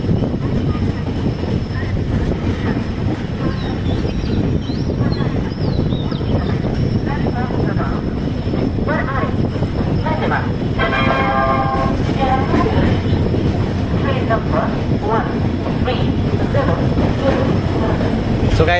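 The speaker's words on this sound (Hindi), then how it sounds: "तो अपनी ट्रेन पहुंच रही है रामपुर रेलवे स्टेशन के प्लेटफॉर्म नंबर 1 पर।" Dehradun Kathgodam Express pulling into platform 1 at Rampur junction station at dusk, a steady loud rumble of wheels and carriages with a horn sounding midway, continuous and close throughout.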